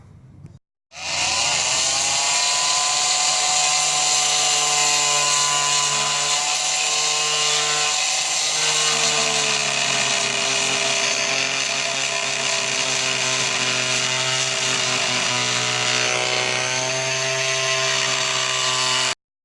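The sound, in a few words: small vibrating saw cutting off wooden plugs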